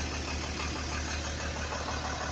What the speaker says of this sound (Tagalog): ito na yung aking truck, ready na